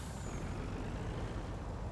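A truck's air brake hisses as a steady, moderately loud release of air in a Farming Simulator game, with low engine rumble underneath and no talking.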